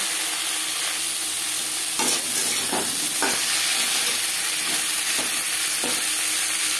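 Three medium potatoes, peeled, cut into pieces and washed, fry in hot oil in a pan, sizzling loudly and steadily while a spatula scrapes and stirs in a few distinct knocks.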